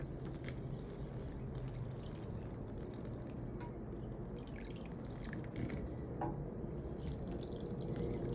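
Water dripping while marigold seedlings are watered indoors: faint scattered drips and trickles over a constant low hum, quiet and close.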